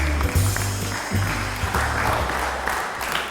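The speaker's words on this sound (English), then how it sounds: "give yourselves a round of applause." Beginner ballroom foxtrot dance class clapping for themselves, a lively round of applause filling the room, with low music or a voice underneath.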